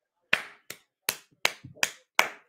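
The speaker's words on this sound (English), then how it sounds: "And I want to clap for Liverpool." Hand claps, six sharp separate strikes at an uneven, slightly irregular pace, close and fairly quiet against a silent background.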